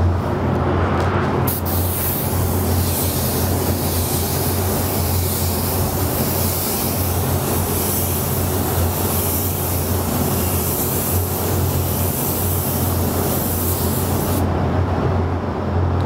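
A spray gun hisses continuously and loudly, laying a gold metallic base coat onto a panel in one long, steady burst with no pauses.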